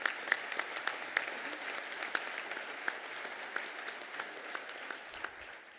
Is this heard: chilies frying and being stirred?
no